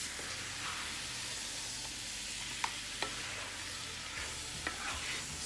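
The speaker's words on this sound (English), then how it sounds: "And so let's give this a stir" Jamaican pepper shrimp sizzle softly in a pan, a quiet continuous frying hiss broken by a few sharp utensil taps as they are stirred, no voices.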